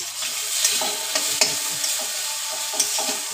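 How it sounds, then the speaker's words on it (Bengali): Potatoes fry in oil with turmeric and salt while a spatula stirs them, giving a close, steady sizzle broken by repeated scraping strokes and light clicks against the pan, with no speech. "দেখো আলুটা আমার অলরেডি ভাজা হয়ে গেছে,"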